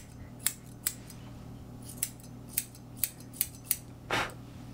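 Scissors snip around a puppy's face during an at-home haircut, about eight quiet, close crisp cuts at an uneven pace over a faint steady hum, followed by a brief soft rustle, with no talk.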